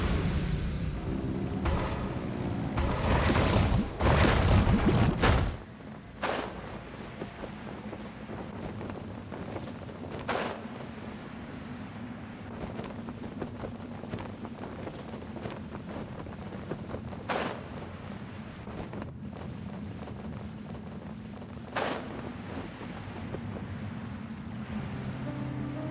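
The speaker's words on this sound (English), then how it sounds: "Rev the engines!" A vessel's engines rev in the Genshin Impact video game, beginning with a loud roaring burst of engine and rushing water, then settling into a steady low hum with sharp intermittent clicks and no voices.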